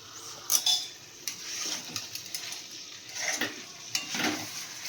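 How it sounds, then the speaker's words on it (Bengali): Chicken frying in a pan on a home stove, with soft sizzling, scattered metallic stirring clinks and scraping of a utensil against the pan, fairly quiet and close with no talking. "সুন্দর করে চিকেনটাকে ফ্রাই করে নিচ্ছি"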